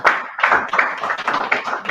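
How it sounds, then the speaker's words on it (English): A short burst of scattered clapping from a small group, uneven and close, fading after a couple of seconds. "Please, round of applause."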